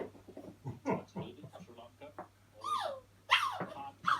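A pet dog whimpers indoors, letting out a couple of short, high, whiny cries near the end amid soft household talk and rustling.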